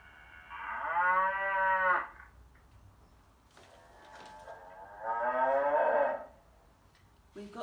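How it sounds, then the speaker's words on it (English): Two long, low cow moos, one after the other with a pause between, clear and fairly close, with a soft clatter at the end. "we can listen to the cows"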